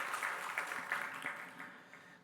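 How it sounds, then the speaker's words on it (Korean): A church congregation gives faint, distant applause during a Korean Sunday worship service, a soft steady patter of many hands that fades out toward the end. "한번 축복의 박수 한번 해주세요."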